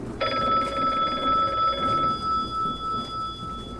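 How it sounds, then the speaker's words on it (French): A telephone rings with a bright electronic trill that starts abruptly and holds for a couple of seconds, then fades into lingering tones over background noise. "Un téléphone sonne."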